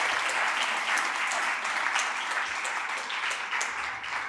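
An audience applauds conference speakers at an insurance law review, with steady, dense clapping that holds at an even level throughout.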